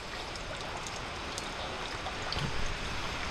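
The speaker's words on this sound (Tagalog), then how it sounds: "Isang maulang umaga na naman po." Steady morning rain falls, a soft, even hiss that fills the whole stretch, fairly quiet and with no voices.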